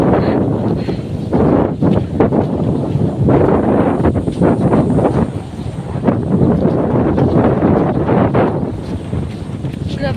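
Strong wind at a beach roars and buffets the microphone continuously, with loud gusty rumbling that swells and dips throughout.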